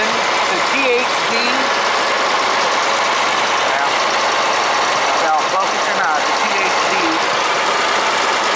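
A Wisconsin THD engine on a Bolens GroundsKeeper tractor idles steadily at close range, an even knocking putter that runs throughout while someone talks over it.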